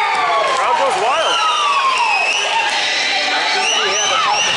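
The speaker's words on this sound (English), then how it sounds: "Crowd goes wild." A hockey crowd erupts in loud, sustained cheering after a goal in a CCHA Finals game, with whistles, shouts and screams layered over a dense roar that fills the arena throughout.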